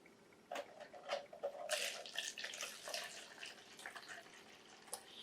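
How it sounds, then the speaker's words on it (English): Water poured into a cup or bottle, with splashy, trickling pours that start after a short pause, then continue unevenly with a few louder bursts, close and fairly quiet. "Let's add our water. Whenever you're pouring water, always a good idea to have a rag or something to clean it up with."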